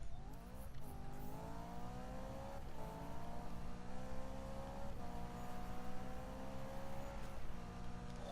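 BMW race car in Need for Speed 2015 revving hard and upshifting repeatedly, its engine note climbing and dropping in a steady rhythm at close range, loud and continuous with no talk.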